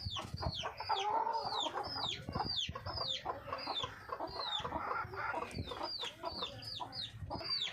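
Backyard chickens and a rooster cluck steadily and close by across the whole stretch, with high overlapping calls and short busy bursts from the flock, and no one speaking.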